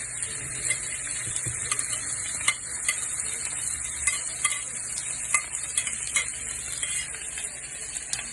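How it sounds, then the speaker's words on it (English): Shrimp, mushrooms, garlic and onions fry in a pan with a steady bright sizzle, punctuated by repeated soft scrapes and clicks of stirring, close up with no talking. "now we're going to add the shrimp"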